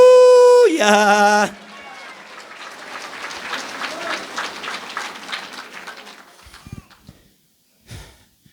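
Applause from a church congregation of the Iglesia de Cristo during a Quechua sermon, a dense patter of clapping for several seconds that follows a sustained sung or spoken tone at the start, then thins into scattered claps and quiet.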